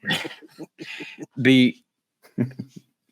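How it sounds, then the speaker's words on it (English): A dog barks in a few sharp bursts, one loud and close, with short pauses between, then a couple more yips near the end. "You may hear him barking at squirrels or whatever he's onto out there."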